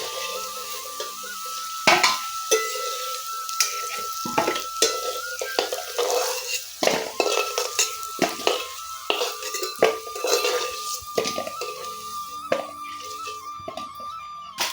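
Potatoes fried in hot oil until reddish-golden sizzle steadily, with frequent spatula stirs and scrapes against the pan breaking through the continuous hiss; no one speaks.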